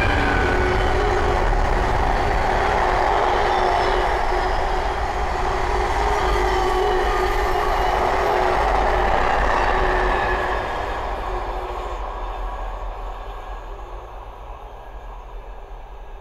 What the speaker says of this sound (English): the next train to pass by is another freight train going from Tilbury Container to Daventry